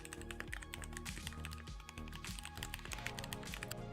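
Steady rapid clacking of a mechanical keyboard with swappable switches being typed on, keystrokes tumbling in quick uneven bursts, close and clear against a low background hum and faint music.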